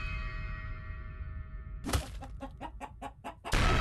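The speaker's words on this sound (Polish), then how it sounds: "A czemu się kura teraz pojawiła?" A chicken clucks in a Subway Surfers horror mod video game: a thin droning tone gives way to a run of sharp, evenly spaced clucks, close and loud, ending in a burst of noise.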